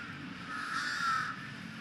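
Crows cawing in Lumpini Park in Bangkok, where they crowd around scraps of leftover food near a monitor lizard; a single sustained harsh caw stands out over quiet outdoor ambience at moderate distance.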